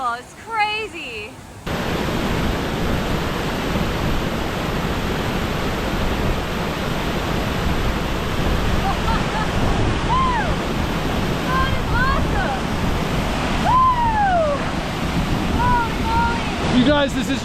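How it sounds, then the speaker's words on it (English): Horsetail Falls, a massive waterfall near Lake Tahoe, produces a loud, steady, close roar of rushing water that fills the scene, with a few faint high chirps over it. "This waterfall's massive."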